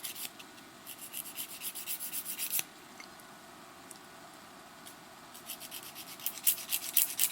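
Fingernails being filed and sharpened produce soft, rhythmic scratchy rubbing strokes in short bursts, close and quiet, pausing briefly midway before resuming faster.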